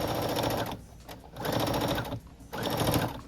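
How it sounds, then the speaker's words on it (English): A sewing machine stitches a sweetheart denim dress, its fast mechanical whir running in three close bursts separated by brief pauses, with no talking over it. "let's go ahead and sew that"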